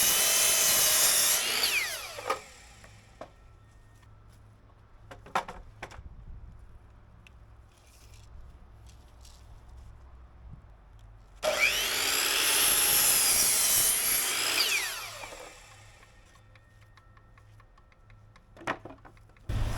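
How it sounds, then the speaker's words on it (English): A miter saw cuts lumber for building a greenhouse: two loud whining bursts as the blade spins up and bites through the wood, separated by a quiet stretch with faint handling knocks. "So instead of using a skill saw, I'm using the miter saw."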